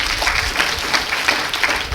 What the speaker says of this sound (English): give him a round of applause, okay?